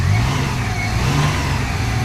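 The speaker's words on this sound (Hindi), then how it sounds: "अब देखो ये मैं हल्की हल्की रेस रख रहा हूँ, तो देखो रेस गाड़ी स्टार्ट है ना, पर बहुत ज़्यादा वाइब्रेट दे रही है।" Maruti Omni van engine running on gas, revved lightly with a steady mid-pitched drone and slight surges, close and loud, no talk.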